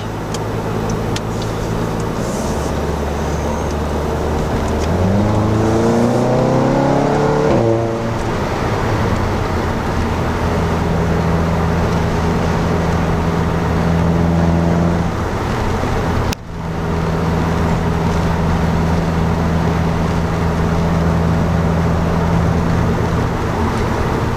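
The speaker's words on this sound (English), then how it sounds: "Hopefully I'll be able to pick up on the overrun burble." A Volkswagen GTI Clubsport 40 Years with its resonator deleted, heard from the cabin in sport mode, drones steadily and revs through gear changes, its exhaust rumbling and burbling on overrun, with a brief dropout midway.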